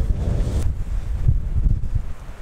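Strong wind blasts across an outdoor landscape photography spot, pounding the microphone with a steady low-frequency roar and gusty surges throughout, with no voices.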